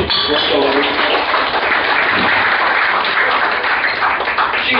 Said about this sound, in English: Give Portland a round of applause